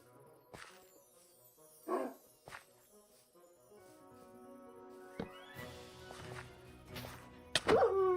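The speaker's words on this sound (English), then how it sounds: "I heard the bark and I knew immediately." A dog in the video game Vintage Story gives a few short, fairly faint barks, one near the start and a sharper one near the end, against quiet ambient game tones.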